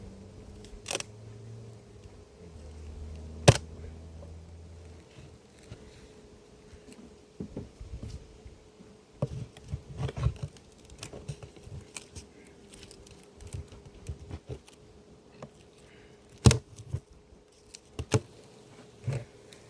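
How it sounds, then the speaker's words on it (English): Honeybees in a crowded hive at an apiary give off a faint, steady hum near at hand. Sharp clicks and soft handling knocks break in now and then. "there's a lot of bees in there"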